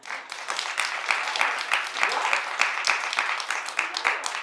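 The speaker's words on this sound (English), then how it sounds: "clap if you don't watch TV" A television studio audience clapping, a dense, even wash of many hands sustained throughout at moderate level.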